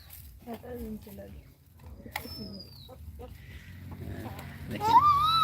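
Pigeons coo softly in the background while a child feeds pigeons and chickens and adults talk nearby, with a sharper bird call rising near the end.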